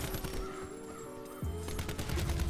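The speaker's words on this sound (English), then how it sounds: "The ICR was a really good gun to use." ICR rifle gunfire in Black Ops 4 Zombies (Blood of the Dead) rattles off in rapid, steady bursts over a dense backdrop of game sound, continuing through with a brief shift midway.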